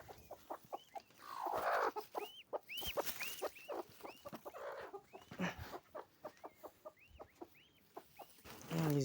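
A hen clucks repeatedly in close, rhythmic bursts of short calls, with a few louder squawks mixed in, inside a village poultry coop where she has just hatched a chick.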